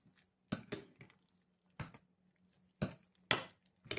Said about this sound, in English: So I stir it up like that just to get all the, just combine it all together.